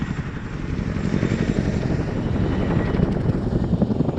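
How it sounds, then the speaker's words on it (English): Chinook twin-rotor helicopter at an RAF air show, a loud, continuous heavy rotor thump with rhythmic blade slap over a deep engine drone, close and steady throughout. "Forget the rest of F1, CJ, the best noise in the world, that bit of blade flash."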